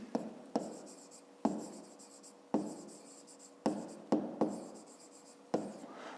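A pen writes on paper in a quiet room, a series of sharp strokes with soft scratching trailing after each, spaced irregularly and close by.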